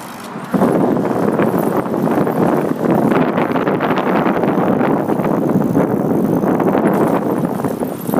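Outdoor wind near a busy intersection buffets the microphone in a loud, continuous, rumbling roar that barely varies.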